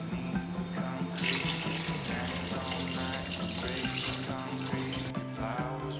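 Water runs from a tap into the pot of an upliance AI cooking machine, a steady splashing pour that fills most of the stretch, with soft background music underneath.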